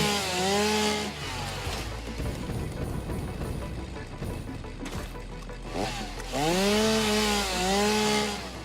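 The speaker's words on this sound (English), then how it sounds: "Got a chainsaw." A chainsaw in the video game Satisfactory revs up sharply, grinds through wood in a dense, rasping middle stretch, then rises again into a high whining rev, loud and close throughout.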